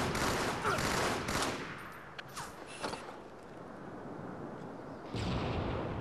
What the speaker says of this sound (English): Rockets, here they come.